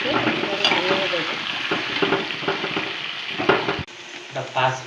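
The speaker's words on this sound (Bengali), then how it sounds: "আলুটা ভাজা ভাজা হয়ে গেছে" Potatoes frying in a pan, a close, lively sizzle with scraping stirs and bursts of crackle. There is a brief dip near the end before the sizzle picks up again.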